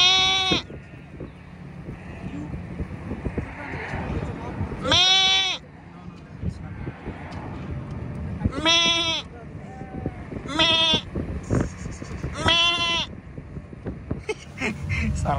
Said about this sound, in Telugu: ఇక్కడ చూడండి ఎన్ని గొర్రెలు ఉన్నాయో.